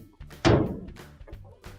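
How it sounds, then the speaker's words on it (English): A GE clothes dryer door swung shut during a heating-element repair, a single solid thunk close by, followed by faint handling knocks. "Now we can close our dryer door."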